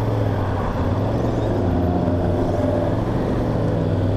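Steady road traffic hums around a motorbike on its first road ride, a continuous low engine drone with no distinct passes standing out.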